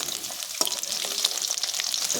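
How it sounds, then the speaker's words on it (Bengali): Pieces of snakehead fish fry in hot oil in a pan, giving a dense, steady sizzle close up with a few sharp spatters and no voices. "মাছগুলো আমি লাল লাল করে ভেজে নেব।"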